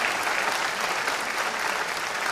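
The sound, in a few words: audience applause at awards ceremony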